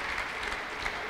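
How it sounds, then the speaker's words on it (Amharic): A congregation at a church service claps in dense, steady applause, filling the brief moment without a break. "ኦ ለጌታ ከፍ ያለ ለልታና ጭብጨባ አምጡ።"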